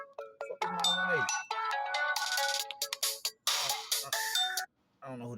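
A phone ringtone plays loudly and close by, a bright looping electronic melody with short pauses between phrases, ending in a brief gap before it resumes.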